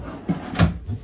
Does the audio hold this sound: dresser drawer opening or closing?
yes